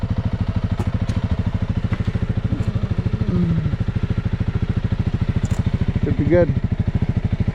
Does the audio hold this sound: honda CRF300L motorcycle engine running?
yes